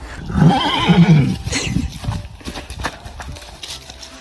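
A horse whinnies loudly, followed by hooves clip-clopping and shuffling nearby.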